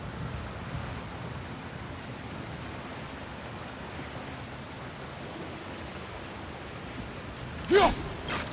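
Steady broadband rush of flowing water in God of War Ragnarök, constant and moderately loud throughout, with a brief brighter burst near the end.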